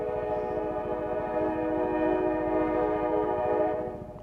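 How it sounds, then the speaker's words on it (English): A Norfolk Southern train passes a crossing near the Susquehanna River, heard from a motorcycle, with a steady rumble of rolling wheels and a sustained horn-like tone that fades near the end. "Oh, there's train crossing."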